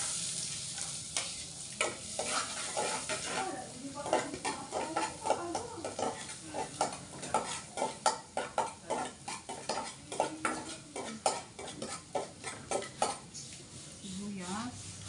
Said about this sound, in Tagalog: igisa pa na natin yung ating gagawing empanada